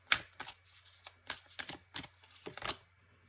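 Tarot cards shuffled by hand, a run of quick papery riffles and flicks in about eight short bursts, close and fairly quiet, no talk.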